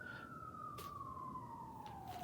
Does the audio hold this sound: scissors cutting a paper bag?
no